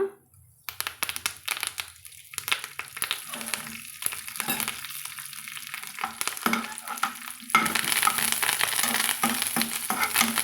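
Dried red chillies and curry leaves fry in hot oil for a thuvaiyal, a steady close sizzle and crackle that grows louder and denser toward the end, with no voices.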